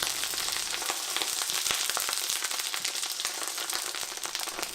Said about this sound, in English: I'm going to start basting the cabbage with that melted butter